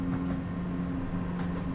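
A train in Train Simulator 2018 runs through Edinburgh Park station, a steady low rumble with a sustained motor hum and faint rhythmic clatter, continuous and even throughout.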